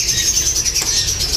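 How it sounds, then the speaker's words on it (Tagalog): Small birds being placed into a new T-box raffle box give a steady, close, high-pitched chirping that runs without a break through the short moment, with no talking. "Dito tayo maglalagay ng ibon."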